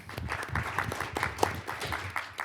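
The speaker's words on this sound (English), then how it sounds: "can we give him another round of applause as well?" A room full of people applauds, a dense, steady patter of many hands clapping at moderate volume.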